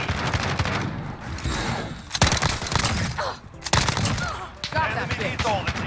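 A rapid-fire Uzi submachine gun in Modern Warfare rattles off near, loud, sustained bursts, broken by brief pauses and clattering impacts.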